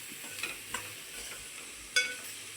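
A spoon stirs food in a sizzling pan, with faint scraping and a few sharp clinks against the metal over a steady low frying hiss, close by.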